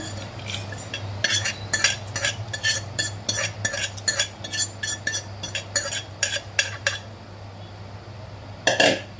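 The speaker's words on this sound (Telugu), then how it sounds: "దీన్ని మేష్ చేసుకోవాలండి. ఇట్లా సన్నగా ఇట్లా చేసుకోవాలి స్పూన్తో" A spoon mashes tamarind with tempering in a pot, a run of sharp metallic scrapes and clinks in an uneven rhythm, close and fairly quiet over a low steady hum.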